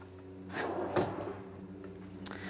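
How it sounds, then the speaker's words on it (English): A drawer in a heavy-duty, overbuilt gaming and entertainment equipment case slides open with a soft rumble and a couple of quiet knocks, heard close and fairly faint. "So let's take a look here at the first drawer."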